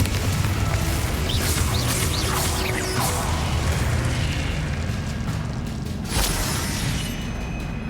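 Confringo fire-spell blasts in the Hogwarts Legacy video game form a dense, loud, continuous wash of booming explosions and whooshes, with sharper bursts cutting through.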